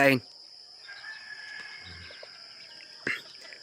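Pet backyard chickens being fed, with a soft steady clucking and murmuring from the flock close by, a sharp call near the start and another brief squawk later.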